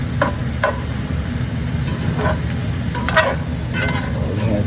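Shrimp and rice stir-fry steadily over high heat with a constant loud sizzle, broken by several scraping stirs of the spatula against the pan, close and continuous, with no talking.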